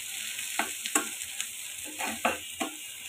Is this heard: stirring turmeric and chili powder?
yes